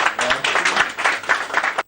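Applause fills a protocol signing ceremony, dense clapping from a crowd at close range, lasting just under two seconds before stopping sharply.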